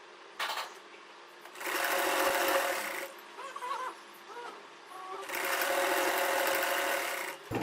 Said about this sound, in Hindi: तो चलिए अब मैं इसको सिलाई लगाती हूँ।